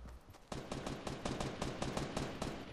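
Rapid bursts of gunfire from a squad-based video game, a sharp shot opening a steady run of closely spaced reports that keeps going at high, even loudness without a break.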